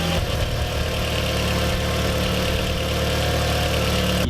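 A Volkswagen Golf Mk4 1.8T engine idles with a steady, throbbing rumble after an oil change, close and fairly loud, running continuously without revving.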